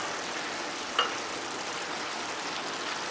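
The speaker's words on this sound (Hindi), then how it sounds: "मिक्स कर लेते हैं अच्छे से।" Black split lentils and minced meat stirred in a pan, giving a steady soft sizzle and scraping throughout with one brief clink of the spoon near the start.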